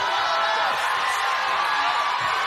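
A dense boxing arena crowd roars and cheers at the close of a women's bout, a steady, loud wash of voices and whoops with no break.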